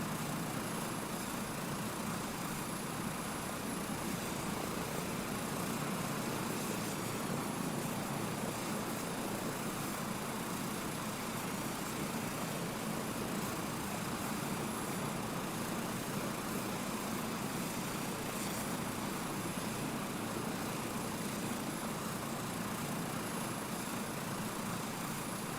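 Cessna 172 piston engine in Microsoft Flight Simulator 2024 on PlayStation 5 Pro, a steady, dense, loud drone with a constant hum that runs without a break, alone, with no voices.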